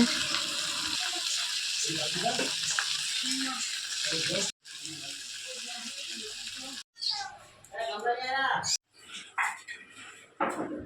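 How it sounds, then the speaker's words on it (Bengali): Marinated mutton sizzles and spits in hot spiced oil, a crackling, hissing fry that runs steadily before breaking into shorter bursts, with someone talking over it at times. "এবার ম্যারিনেট করা মাংস দেওয়া হচ্ছে।"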